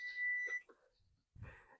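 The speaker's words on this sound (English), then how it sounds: "And I have a timer going." A kitchen timer gives a short run of high electronic beeps near the start while potatoes and green beans are cooked, followed by quiet background and a soft, low thump near the end.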